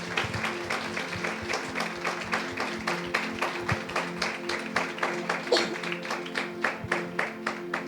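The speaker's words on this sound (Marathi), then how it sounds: "जरा जोरात टाळ्या वाजवूयात, प्रभूच्या नावाला धन्यवाद देऊयात" A church congregation claps together in a quick steady rhythm, many hands striking in unison over and over for several seconds at moderate loudness.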